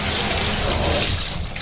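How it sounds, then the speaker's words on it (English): Bathtub tap running water inside a house bathroom, a loud, steady gushing and splashing stream heard close up and without talking. "You can hear the tub running."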